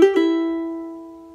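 A short charango phrase, one plucked note followed by a quick hammer-on and slur that then rings and fades alone.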